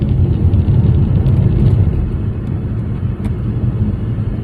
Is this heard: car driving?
yes